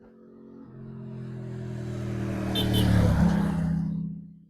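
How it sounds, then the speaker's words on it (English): A car drives along a busy road in the Teifi Valley, its engine hum building as it approaches, peaking loud and close, then fading briefly as it passes, with no talking. "There goes today's vehicle."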